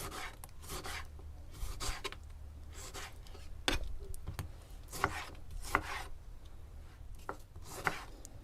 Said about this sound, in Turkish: Şimdi domateslerimizi doğruyoruz.